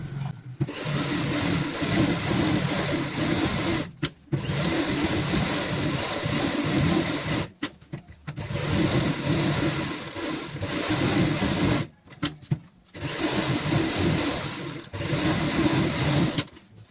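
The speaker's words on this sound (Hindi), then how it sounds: "इसके ऊपर भी हम सिलाई लगा लेते हैं ताकि ये अच्छे से फिक्स हो जाए" A sewing machine runs in long, steady bursts as it stitches lace onto a fabric cushion cover, pausing briefly three times between loud, continuous stretches of close mechanical whirring.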